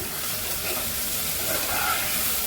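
Onions and coriander roots sauté in a pan for a homemade chicken gravy, giving a soft, continuous sizzling hiss with faint stirring, close but moderate in level.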